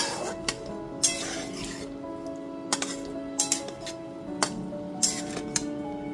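Water stirred into a pan of vegetarian curry with pointed gourd and yogurt, giving sparse, close metallic clinks and taps of a spoon against the pan over a low steady hum.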